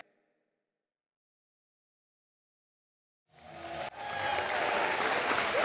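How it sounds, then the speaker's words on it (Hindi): After about three seconds of near silence, a studio audience on a comedy talk show breaks into loud applause for a hockey team. The clapping starts abruptly and swells into a dense, sustained ovation. "एक बार जोरदार तालियां हो जाएं हमारे सब प्लेयर्स के लिए."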